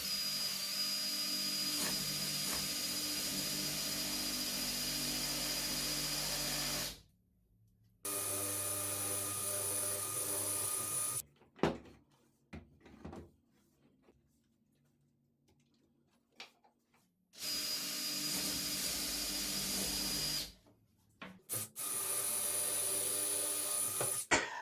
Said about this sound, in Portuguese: posicionar aqui de uma forma confortável para eu poder fazer esse furo aqui e tentar fazer o mais baixo possível